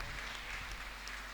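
An audience at a Jain Chaturmas kalash installation ceremony breaks into applause, a short, even burst of clapping heard from a distance without voices.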